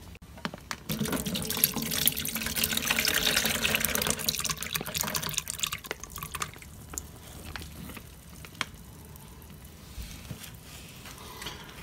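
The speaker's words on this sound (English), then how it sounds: "So you're just emptying out the syrup into the top of the sieve." Pear and ginger honey syrup pours into the top of a sieve with a close, splashy liquid rush that swells early, then thins into slower trickles and a few drips.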